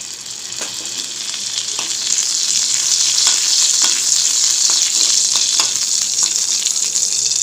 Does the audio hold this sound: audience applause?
no